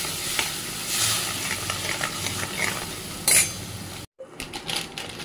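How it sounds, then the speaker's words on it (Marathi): A spoon stirs garam masala and turmeric through coconut in a pan for a Maharashtrian chawli amti, a steady close scraping and light sizzle with a brief sharper clatter near the end, then a short break. "आता आपण चांगलं मिक्स करून घेऊया।"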